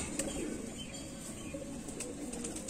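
Pet pigeons, including Golden, Dub-Wale, Teddy and Kamagar breeds, kept at a home in R.S. Pura, Jammu, make low soft cooing. It is a continuous murmur with a few faint chirps and wing sounds nearby.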